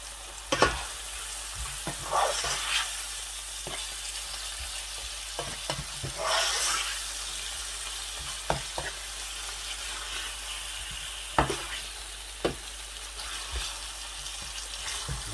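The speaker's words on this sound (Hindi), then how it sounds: "आप चिकन को थोड़ा सा हिला दें, थोड़ा सा चिकन पकना शुरू हो जाए" Chicken stirred in a hot pan sizzles and fries steadily, with scattered scrapes and clinks of the utensil against the pan. Close and moderately loud, with no talking.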